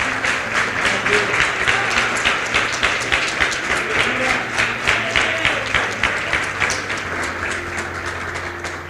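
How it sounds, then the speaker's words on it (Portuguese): A church congregation claps together at a nighttime book launch, with sustained loud applause that falls into a rhythmic, pulsing beat and tapers slightly toward the end. "Será que você pode aplaudir Jesus por essa palavra?"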